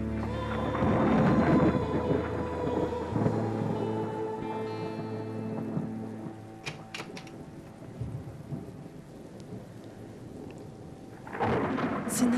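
Thunder rumbles through a rainstorm, a long loud roll at the start fading into steady rain, with sharper cracks near the middle and another swell of thunder at the end.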